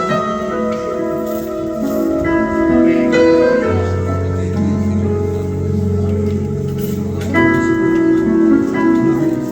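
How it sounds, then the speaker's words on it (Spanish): Sustained church organ chords at a welcome in a Nueva Luz church service, with a deep bass pedal tone entering partway through; loud, full and steady throughout. "Un toque con el órgano y dejamos paso a él"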